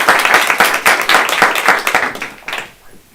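An audience at a university talk on democracy in Pakistan breaks into dense, close applause that holds steady, then thins and fades out.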